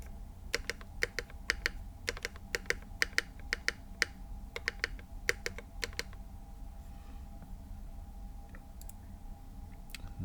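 Typing on an NK87 aluminium mechanical keyboard fitted with Gat X switches: quick, crisp keystroke clacks in uneven bursts, close and fairly quiet, over a faint steady hum, thinning out toward the end.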